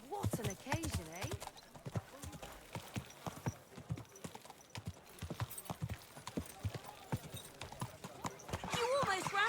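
In the video game Kingdom Come: Deliverance II, rhythmic clip-clop of horse hooves runs throughout, with a horse whinnying and a voice speaking over the steady hoofbeats.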